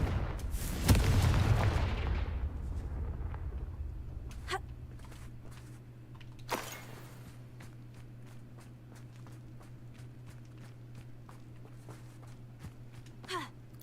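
A Confringo fire spell blasts in Hogwarts Legacy with a loud, booming explosion near the start that rumbles and fades over a few seconds. Faint footsteps, clicks and a low steady hum follow.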